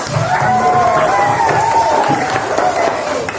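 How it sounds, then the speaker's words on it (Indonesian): Schoolchildren in a classroom clap and cheer together for a classmate, a dense patter of applause mixed with excited young voices for a few seconds. "bisa tepuk tangan untuk Bima"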